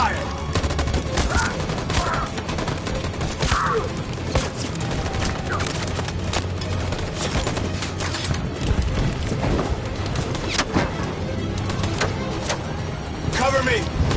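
Gunfire in Detroit: Become Human, a dense fusillade of sharp cracking shots repeating rapidly and loudly for the whole stretch, mixed with shouting voices and battle noise.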